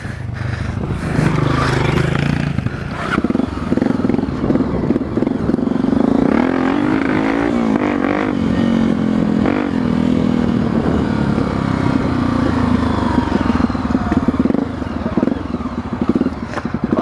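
Motocross motorcycle engine on a dirt trail, a steady loud drone with throttle rises and revving surges throughout, heard close up with occasional clatter and scraping.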